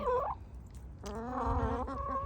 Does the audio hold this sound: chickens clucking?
yes